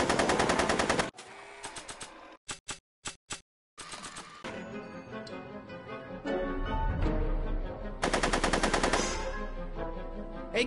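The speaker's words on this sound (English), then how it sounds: "Are you shooting at me?" Bursts of rapid gunfire from a Back to the Future video game come in clusters, with a long rattling volley, a few separate sharp shots, and more firing mixed with game music and effects.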